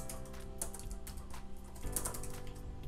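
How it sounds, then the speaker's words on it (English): Soft, quick keystrokes on a computer keyboard, tapped in an irregular run over a steady low hum, faint and close, with no voices. "So I'm going to type out Upendo Ventures"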